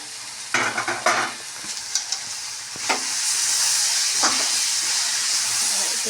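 Water spinach (kalmi greens) sizzles in a hot pan while a utensil scrapes and stirs a few times early on, then a steady loud frying hiss continues.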